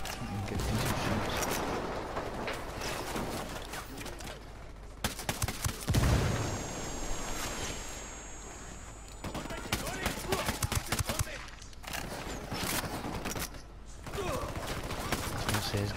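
Gunfire in Ghost Recon Wildlands crackles through a steady barrage of shots and bursts under intermittent talk from a player, with mechanical clanks mixed in.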